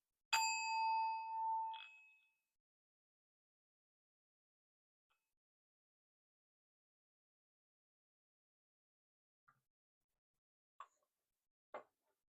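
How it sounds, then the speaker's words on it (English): A bright metallic ring strikes once and hums for about two seconds, followed by long quiet and a few faint taps. "Here comes the sound bowl bell."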